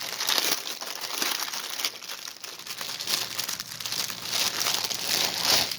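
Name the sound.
crinkly plastic bag of cross stitch kit handled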